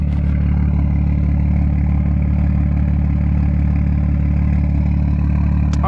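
Straight-piped, catless BMW M2 engine idling, a loud, steady, deep burble with a rapid rhythmic pulse, close by and uninterrupted for several seconds.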